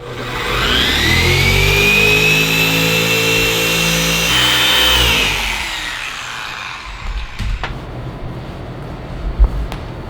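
A car paint polisher with a cutting pad runs loud and close at a steady high whine, then winds down partway through, leaving quieter handling clicks and taps with no talk.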